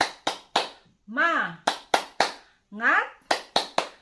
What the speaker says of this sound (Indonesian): yuk kita tepuk semangat ya agar kalian lebih semangat belajarnya ya